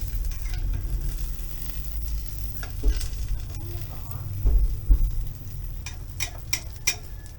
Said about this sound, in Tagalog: isasalang ko na ang ating veggie na may egg at hayaan lang nating maluto sa mahinang hapoy